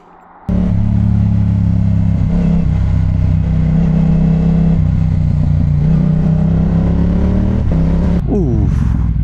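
A Ferrari F12 engine revs loudly as the car passes close by, a steady roaring drone with rising pitch, while people talk excitedly over it throughout.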